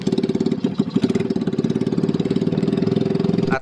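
A small fishing boat engine in Bolinao, Pangasinan, Philippines chugs steadily with a fast, regular putter, loud and close, running continuously before cutting out at the end.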